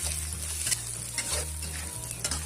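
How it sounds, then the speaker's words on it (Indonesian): Meatballs and sausage stir-fried in a sticking wok, with a steady sizzle and repeated scraping strokes of the spatula at close range, no voices. "Diaduk-aduk ya teman-teman supaya nggak lengket."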